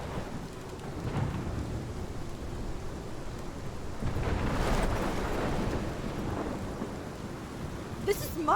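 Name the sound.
thunderstorm in Life is Strange video game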